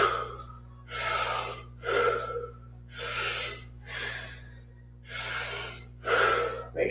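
Deep, forceful breaths in a yoga class, each inhale and exhale whooshing loudly through the nose in a steady rhythm over a low constant hum.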